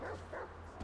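Chop, the dog in Grand Theft Auto V, gives a few short, faint yips and whimpery barks in the game over a low steady hum.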